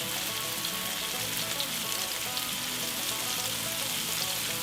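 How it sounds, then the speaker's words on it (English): Eggs sprinkled with salt sizzle in a hot frying pan, a loud, continuous crackling hiss that holds steady throughout with light stirring underneath and no speech. "I'm going to stir this around just to make sure everything is getting a little bit of salt in there"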